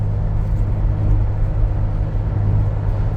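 Engine and road rumble from a Ford Raptor race truck cruising along a winding country road, heard as a steady, loud low drone without talk.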